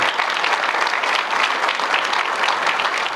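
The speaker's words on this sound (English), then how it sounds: "You can applaud him." Audience at a law enforcement appreciation breakfast applauding a presenter, dense steady clapping throughout, loud and close with no talk over it.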